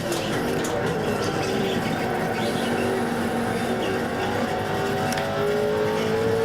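Engines of GTC race cars in the iRacing sim, one car overtaking a Mazda Miata: a loud, continuous engine drone with shifting pitch, tire noise and other cars audible close by, with no talking.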